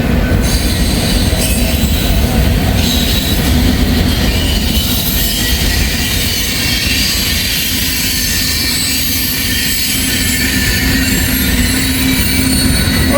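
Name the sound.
freight train with double DPU locomotives passing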